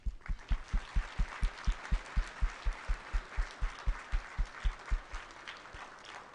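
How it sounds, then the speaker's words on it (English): An audience claps at a city employee excellence awards ceremony, with strong rhythmic thumps and dense clapping held steady for about five seconds before fading. "Please join me in a round of applause for those outstanding public servants."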